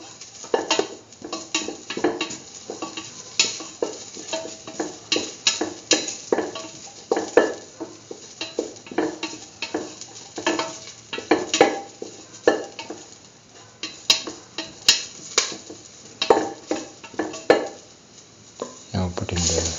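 Onions being sautéed and stirred in a pan, a spoon scraping and clinking in repeated strokes over a faint sizzle, close and steady throughout.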